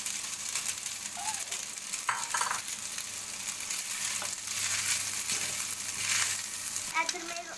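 Pasta coated with masala powders sizzles and fries in a hot pan, a continuous loud crackling hiss broken by a few scraping stirs and light clinks of a utensil.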